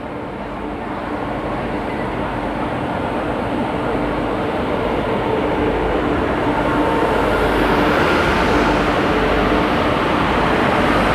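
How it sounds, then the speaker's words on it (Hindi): A Chambal Express train hauled by a Howrah-shed WAP7 electric locomotive arrives at a station platform, giving a loud, steady rumble and roar of rolling stock that builds slightly over about eleven seconds with no pause. "आज हमारी ट्रेन में हावड़ा शेड का WAP7 लोकोमोटिव लगा हुआ है।"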